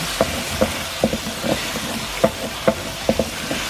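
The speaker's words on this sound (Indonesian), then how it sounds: "Masukkan bumbu cabai keriting yang sudah dihaluskan tadi. Kita tumis sampai matang." Ground curly chili paste stir-fries in oil in a pan, a soft sizzle under repeated scraping taps of a spatula every half second or so, close up.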